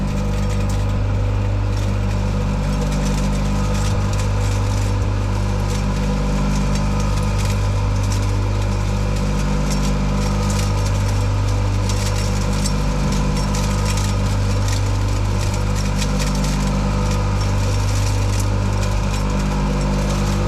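A 220V electric pellet mill runs steadily and loudly with a constant droning hum, harmonics holding level throughout with slight rhythmic grinding fluctuations.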